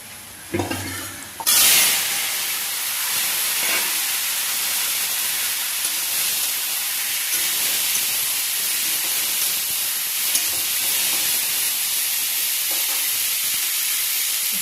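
Ingredients hit hot oil in a pan and set off a loud, steady sizzle that keeps going unbroken after the first burst.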